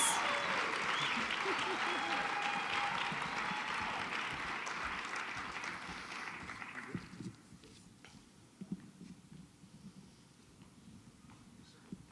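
Audience applause at an awards lunch during a national leadership forum, loud sustained clapping from a large crowd that fades out over several seconds, leaving quieter room noise with scattered claps.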